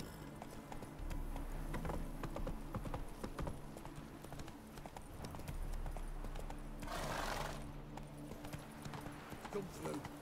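Hooves of the horse Roach clip-clop steadily at a walking pace, close and clear, with occasional snorts and a brief breathy burst, while someone speaks over the steps.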